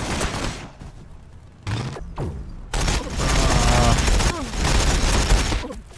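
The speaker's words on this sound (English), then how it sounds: "They are taking fire." Gunfire in the video game Warhammer 40000 Battlesector, loud bursts of rapid shots and booming impacts in sharp clusters, with brief gaps and battle noise between.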